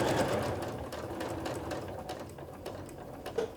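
Close, rapid stitching from a sewing machine running a facing strip down the length of a beginner's quilt, fading slightly toward the end with a small click.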